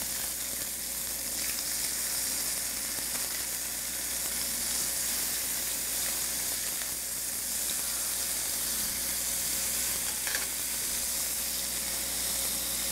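Guinea fowl supremes sear skin-side down in a hot pan, giving a steady, dense sizzle and hiss that holds evenly at close range with no talk over it.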